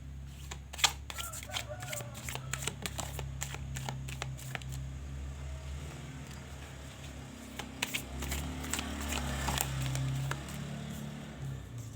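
Tarot cards are shuffled gently and steadily, giving irregular crisp riffles and soft slaps up close over a low background hum, with a voice speaking quietly at times.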